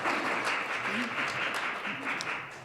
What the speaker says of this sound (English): I think there was an applause coming there